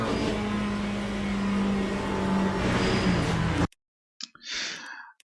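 A McLaren race car engine in Le Mans Ultimate at the Circuit de la Sarthe, with a steady loud drone and a rising whine that cut off abruptly. A faint breathy noise follows.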